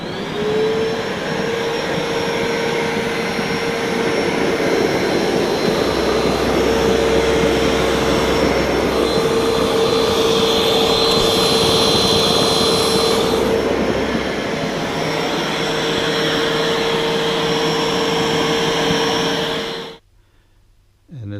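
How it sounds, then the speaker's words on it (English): A Bissell ProHeat 2 carpet cleaner runs with its brushes spinning, giving a loud, steady motor whine and broad rushing hum that holds for about twenty seconds before cutting off abruptly. "as I'm gonna turn on the power button up here, you're gonna see the brushes spinning"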